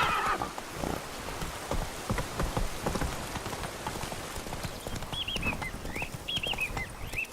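Roach, the horse in the video game Witcher 3, whinnies twice in high, shaky bursts while her hooves pound through steady rain, close and continuous, with no talk.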